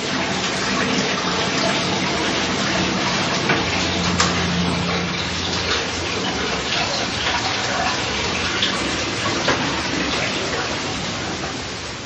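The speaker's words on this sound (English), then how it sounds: "Hot water is added to reheat and rinse the contents." Hot water pours into a traditional beeswax press during wax pressing at a heathland apiary, a steady continuous splashing wash that holds at the same level for the whole stretch, close and fairly loud with no voices.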